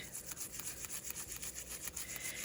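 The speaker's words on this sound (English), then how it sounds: "I just squirt a little toothpaste on there, and then I get to scrubbing." A brush scrubs rapidly over tarnished mass-market jewelry coated in toothpaste, producing a close, rhythmic bristly rasp in quick back-and-forth strokes.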